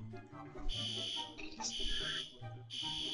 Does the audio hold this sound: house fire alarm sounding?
yes